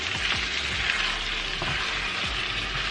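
Onions or vegetables sautéing with black pepper in a Dutch oven for a Cornish hen and potato dish, a steady close sizzle with occasional soft scrapes of stirring, no voices.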